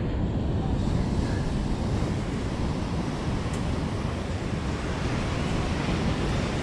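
Ocean surf breaking on a beach, a steady loud roar of waves with wind buffeting the microphone throughout.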